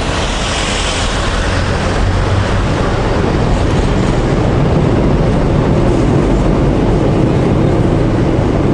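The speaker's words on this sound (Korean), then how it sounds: "지하철이 위에서 지나가고 있습니다" A subway train passes overhead near Oksu Station in Seoul, a loud, continuous rumbling roar with steady rattling that fills the whole stretch with no talking.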